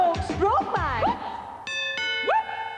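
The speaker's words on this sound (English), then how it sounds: "That'll be the doorbell." A chiming doorbell rings twice in a 1992 Yorkshire TV comedy sketch, two clear bright tones standing out against voices and busy speech earlier in the clip.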